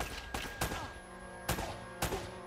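Pistol gunfire in the video game Uncharted: Drake's Fortune: four sharp, separate shots at an uneven pace, each with a short ringing tail, heard fairly close over quiet background game sound.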